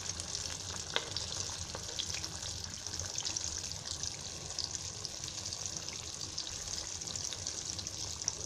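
Salmon (rawas) fish pieces deep fry in oil over a gas flame, giving a soft, steady sizzle with faint crackles, quiet and continuous.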